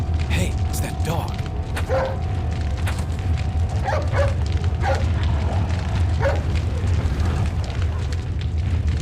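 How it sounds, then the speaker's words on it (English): A dog barks in the Resident Evil Village video game, several sharp barks spaced out over a dense crackling, rumbling game soundscape, with a player talking over it. "it's that dog."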